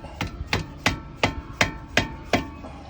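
Dead blow hammer striking a brake caliper pin on an Audi Q7 during a brake pad change: seven sharp, evenly spaced knocks over about three seconds, close and distinct, with no talking.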